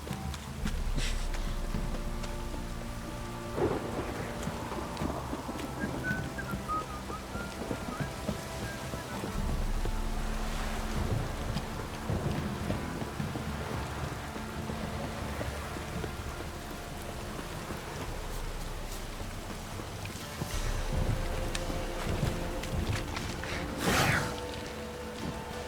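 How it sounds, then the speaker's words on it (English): Heavy downpour in The Witcher 3, a dense continuous hiss of rain with low rumbling thunder rolling underneath and occasional brief cracks, steady and enveloping throughout. "This downpour's a bastard, it is."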